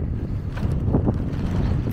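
Headwind buffeting the microphone while someone cycles carrying four bags of empty bottles, a steady loud low rumbling roar that lasts throughout with faint rustling in it.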